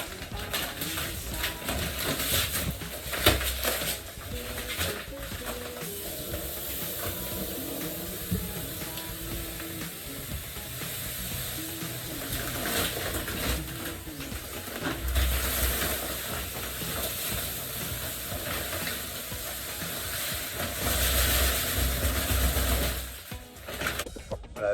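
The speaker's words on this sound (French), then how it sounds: "Maintenant, il n'y a plus qu'à remplir de sable." Sand is poured into a swimming-pool sand filter that has water in the bottom, giving a long, continuous rushing hiss with a few louder surges and no talking.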